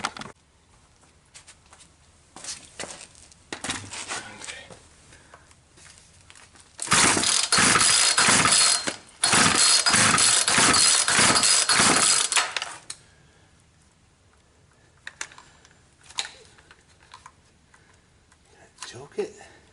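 A Poulan 220 chainsaw is pull-started with a loud run of rapid, rhythmic cord-pull rattles in the middle, framed by softer handling clatter and speech.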